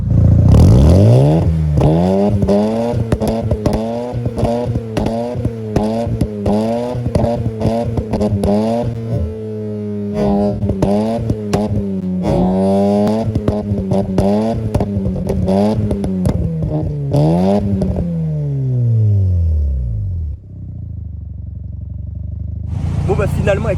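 A Mazda RX-7 rotary engine revving hard in repeated rhythmic bursts, with loud crackling exhaust pops and bangs between revs, close and powerful before the engine drops off near the end.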